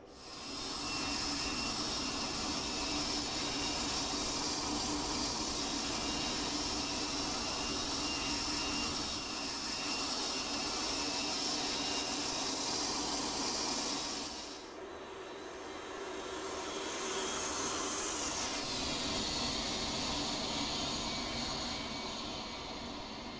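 Dassault Mirage F1 jet on final approach to an airbase runway in the DCS World flight simulator, a loud steady turbine roar with a broadband hiss that dips briefly and then swells back up.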